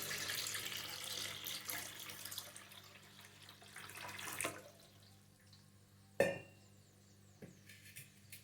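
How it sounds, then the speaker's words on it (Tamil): Water running and splashing into a new clay cooking pot as it is filled for soaking, a steady trickling pour that tapers off, followed by a sharp clunk and a few faint drips in a quiet room. "இது இன்னும் கொஞ்சம் அதிகமான தண்ணியை நம்ம விட போகிறோங்க."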